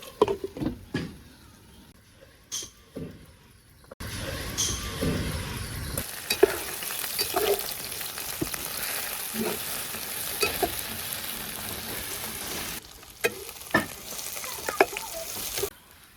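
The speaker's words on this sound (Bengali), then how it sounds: "পুঁই ভাজা হয়ে গেছে এবার নামিয়ে নিব" Malabar spinach frying in a pan, a steady close sizzle with intermittent stirring scrapes and clatters; quieter stirring knocks first, then continuous loud frying.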